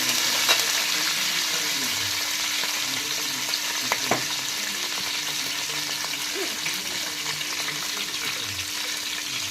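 Frying in a pan while making fish curry, a steady close hiss and sizzle with occasional stirring clinks and scrapes, no talking.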